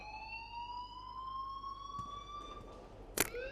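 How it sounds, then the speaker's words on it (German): An alarm sounds in the Life is Strange video game, a steady rising electronic tone held over background hum, with a brief sharp knock near the end. "please turn off that alarm since that's your job"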